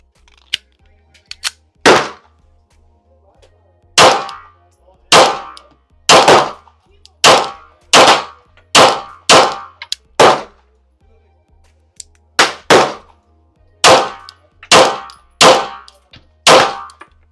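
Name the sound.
Tisas Night Stalker 9mm pistol firing Freedom Munitions 124 grain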